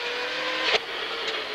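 Inside a 1997 Prodrive Subaru Impreza S3 WRC rally car on gravel, the engine drones steadily with a sharp crunch or clatter from the surface briefly rising midway, plus a fainter one later.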